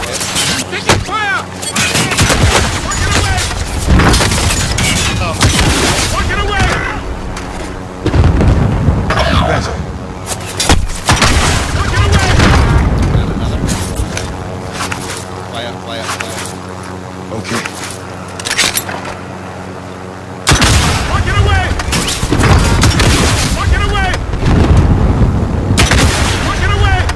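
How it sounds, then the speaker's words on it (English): Loud bursts of gunfire from an action game fill the scene, with rapid repeated shots and booming hits packed densely over continuous tonal music or engine drone, briefly easing in the middle before resuming at full intensity. "Shooting from the right side."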